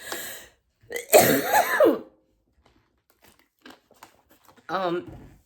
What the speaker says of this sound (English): Bear with me with this stupid cough.